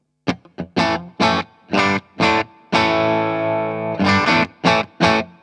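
An electric guitar plays a clean, undistorted tone through an amp: rhythmic chord stabs, then one longer ringing chord, then more choppy strummed chords, loud and close.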